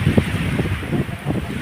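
Cold wind blowing outdoors, a steady broadband rush with gusty low buffeting against the microphone, fairly loud and continuous, with faint voices in the background.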